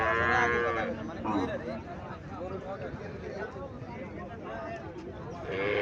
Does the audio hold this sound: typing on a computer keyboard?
no